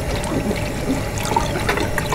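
Tap water runs steadily over a whole raw chicken being rinsed in a kitchen sink, a continuous close splashing hiss with no pauses and no talking.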